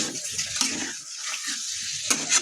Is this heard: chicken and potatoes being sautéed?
yes